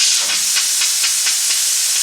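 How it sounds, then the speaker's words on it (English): A pressure cooker vents steam for goat meat jollof rice, giving a loud, continuous close hiss that pulses faintly in rhythm and carries no voices. "Let the pressure cooker cool down a bit."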